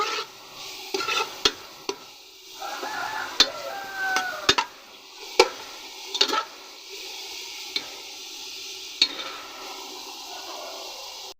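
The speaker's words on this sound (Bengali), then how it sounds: "তেলটা গরম হওয়ার পর এই আমি পেঁয়াজ কুচি দিয়ে দিলাম" Chopped onion and green chili fry in hot oil with a soft, steady sizzle, while a spatula knocks and scrapes against the pan in sharp, scattered clicks.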